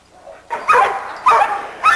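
A small old female breeding dog in a yard barks in short loud bursts, with whimpering and yips between them. Three clear bark clusters come close to the listener after a quiet start.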